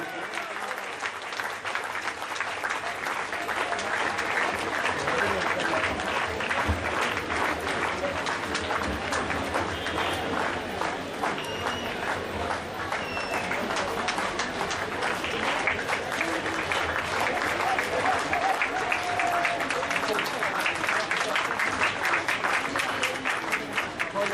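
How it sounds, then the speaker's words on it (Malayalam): A hall full of people at a church family meet claps in sustained, even applause for a family unit, the crowd noise staying steady and loud for the whole stretch, with some voices mixed in. "നല്ല ഒരു കയ്യടി"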